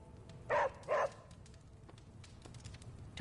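A dog barks twice in quick succession in the video game Midnight Suns, the sharp barks fairly close over a low game ambience, with another brief yelp at the very end.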